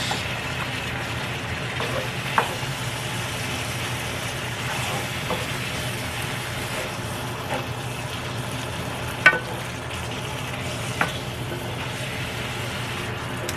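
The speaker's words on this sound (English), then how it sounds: "Put my liquid in here and let it reduce." Taco sauce simmers and reduces in a Presto electric skillet, giving a steady, even sizzle with a few faint clicks and pops scattered through it.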